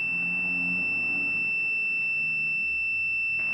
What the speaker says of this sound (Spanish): Ah, alarma del filtro de aceite